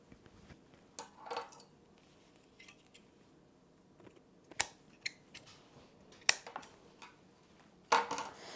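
Scissors snip through a bent flower stem during a cottagecore flower arrangement, a few sharp close clicks spaced apart among quiet handling noises.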